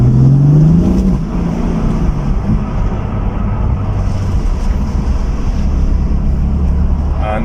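A BMW M4 F82 manual coupe accelerates hard in second gear on a wet road, the engine note rising briefly before dropping back into a loud, steady drone of engine, tyre and cabin noise.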